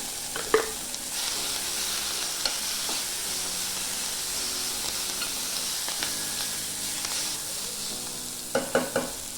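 Brinjal chutney with coriander is stirred in a pan, giving a steady close sizzle broken by a few sharper scraping knocks of the spoon near the start and end. No voices are heard.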